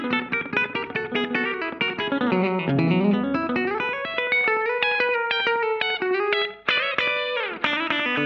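Electric guitar played through a Walrus Audio slapback delay pedal with compression, a continuous melodic run of picked notes and bends with short echoes, close and loud.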